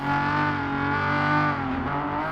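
A BMW M1 Procar racing on Spanish rally-stage roads in a video game, its engine holding a loud, steady high-revving tone with a slight pitch dip near the end, close and alone.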